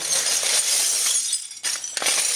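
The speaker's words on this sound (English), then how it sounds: "I'm going to walk across a bed of broken glass" Footsteps crunching across a bed of smashed glass shards left over from a New Year's Eve party, with steady gritty crackling and clinking, a brief pause, then more crunching steps close by.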